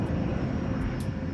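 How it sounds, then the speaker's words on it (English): A jumbo jet airliner on final approach at night into Miami International Airport, heard as a steady, loud broadband engine roar with a deep rumble, continuous and unbroken throughout. "Close to midnight, the plane begins its approach to Miami International Airport."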